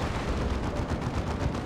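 A level 4 Venom Cannon Carnifex fires in a Warhammer 40k Dawn of War 2 multiplayer match, a dense, continuous barrage of loud, rough booming shots that rumble without pause for the whole stretch.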